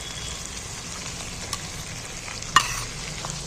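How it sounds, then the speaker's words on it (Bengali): Onions with beaten sour yogurt are stir-fried in a pan, a low steady sizzle with a couple of sharp spoon clinks against the pan. "এবার একটু আমি ভালো করে কষিয়ে নিই"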